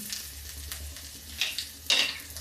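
Garlic, cumin, mustard seeds and asafoetida fry in a little oil, a low, even sizzle with two brief louder spitting bursts as the spices are stirred, close and without talk.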